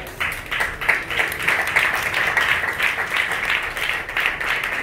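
A church congregation applauding together, steady sustained clapping from many hands filling the room, fairly loud and continuous, with faint voices mixed in.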